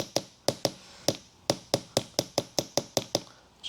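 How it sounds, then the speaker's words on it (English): Metal pulley tapped down onto a dinged keyway shaft during a Walker mower hydro replacement, about a dozen sharp, close knocks in a quick, slightly uneven rhythm with no talking. "Just trying to tap that back down so it doesn't get hung up."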